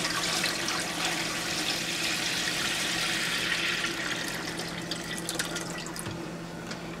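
Three quarts of water pour steadily into a pressure canner, a continuous rushing splash with a faint low hum, easing slightly toward the end.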